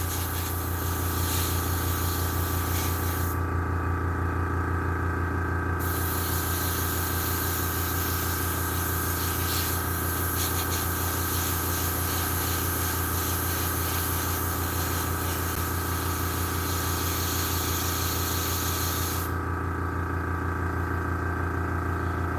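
An airbrush sprays thick, gummy paint onto DAK tank models, giving a steady, continuous hiss that stays loud throughout, with an even compressor-like drone beneath it and two brief dips in the hiss.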